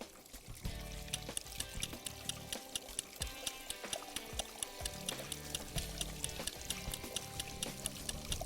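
Water runs steadily from an eye wash station in a high school chemistry lab, a continuous splashing stream with rhythmic ticking underneath, sustained and fairly loud throughout.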